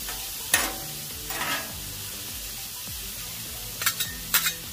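Breakfast burrito filling cooks down in a pan with a soft steady sizzle, punctuated by a few sharp scraping bursts as it is stirred, over quiet background music.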